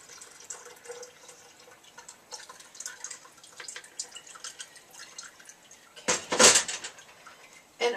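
Rinse water runs off freshly churned butter, giving faint trickles and drips against a quiet background, then a brief louder splash of pouring near the end.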